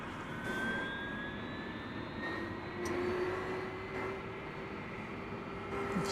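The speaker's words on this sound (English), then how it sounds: "We've got a flight coming in from Oklahoma City, which will be American Eagle Flight 3895 and Embraer 175." An Embraer 175 jet airliner arriving at DFW Airport, a steady distant roar with rising and falling whine tones holding throughout the short span.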